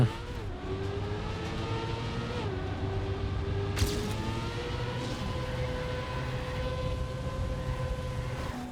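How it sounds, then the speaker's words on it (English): A car engine roaring in the racing game Trackmania, holding a steady, loud drone at near-constant pitch with small shifts as the car speeds along, and a brief sharp knock partway through. "hearing this car roar its engine at the same frequency for like an hour and a half now"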